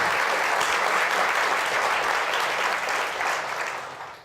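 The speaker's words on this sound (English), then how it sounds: "That's applause worthy right there." Live theatre audience at the 92nd Street Y breaks into thick, continuous applause, loud and even throughout before tapering off in the last second.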